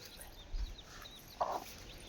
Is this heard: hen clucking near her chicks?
yes